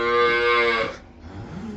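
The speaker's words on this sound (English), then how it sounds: "that's one of our fresh cows" A fresh dairy cow on a farm gives one loud, close moo lasting about a second. A short stretch of quieter farm background follows.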